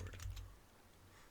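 Computer keyboard typing during a Minecraft server session, a quick burst of key clicks up front that fades to faint tapping, close to the microphone, with no voices.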